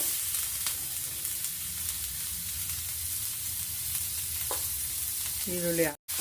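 Chopped onions sizzle and crackle steadily in hot oil with mustard seeds and cumin in a pan, with occasional scraping stirs of a spoon, ending with a brief clatter near the end.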